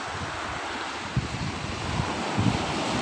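Choppy sea waves wash onto a beach in a steady, close roar, with wind buffeting the microphone and a few slightly louder surges.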